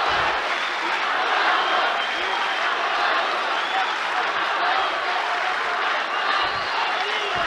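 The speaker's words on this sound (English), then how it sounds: "but listen to the crowd now." Arena crowd at an ACA 130 mixed martial arts fight in a purpose-built combat sports coliseum, producing a steady, far-off roar of cheering and noise that holds for several seconds.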